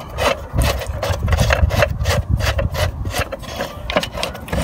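Close, steady rasping and rubbing as an HVAC tool backs a screw straight out, a dense train of short gritty scrapes and clicks with no talking.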